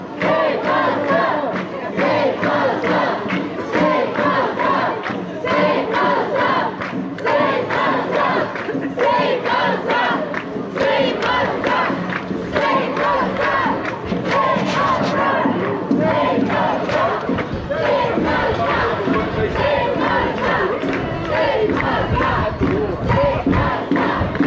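A large crowd of pro-Palestine protesters chanting loudly in unison on a Cardiff street, rhythmic repeated shouted slogans filling the air continuously, close and dense.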